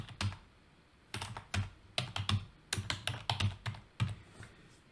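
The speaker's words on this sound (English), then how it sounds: "So I will go here and type in" Quick bursts of keystrokes on a computer keyboard, close and crisp, with short pauses between clusters of taps and no talking.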